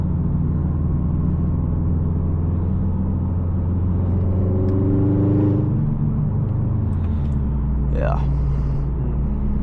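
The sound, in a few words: car engine noise while driving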